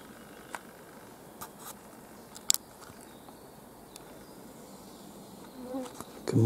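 Mosquitoes whine outdoors at a gold deposit site, a thin, faint, steady buzz hanging over quiet background noise, with a few scattered soft clicks and a louder rustle near the end.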